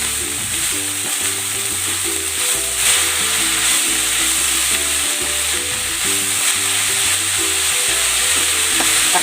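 Chopped banana heart sizzles loudly in a hot pan as it is cooked for lumpia, with a steady, close frying hiss and rhythmic stirring scrapes running throughout.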